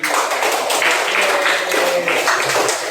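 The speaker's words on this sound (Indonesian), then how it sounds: "Iya, tepuk tangan buat prestasi." Classroom applause for a student's achievement during a maths lesson, a dense steady patter of many hands clapping together for about three seconds, fairly loud and continuous.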